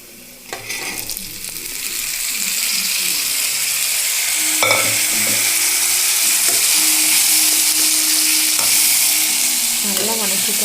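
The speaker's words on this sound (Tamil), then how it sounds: "இப்போ இதுக்குள்ளே நம்ம வேக வச்சுருந்த சுண்டல் எடுத்து கொட்டிக்கலாம்." Boiled black chickpeas tip into a hot tempering and are stir-fried, giving a loud, steady close-up sizzle with scraping stirs and a few knocks of the spoon against the pan.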